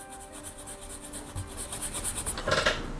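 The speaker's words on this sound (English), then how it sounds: "we're just going to rub over each of these contact pads and get those kind of cleaned off" A fiberglass brush rubs over corroded contact pads on a circuit board inside a CGL Galaxy Twinvader game, giving a quick, faint series of rhythmic scratchy strokes, close up and alone.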